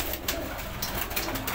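Pigeons coo softly, mixed with rustling and light fluttering nearby, a low murmuring chorus with no talk.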